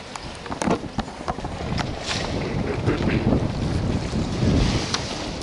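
Strong wind buffets the microphone on a coastal walk between Watsons Bay and Rose Bay in Sydney, with a steady rushing roar and gusty swells, and surf or water is faintly audible beneath it.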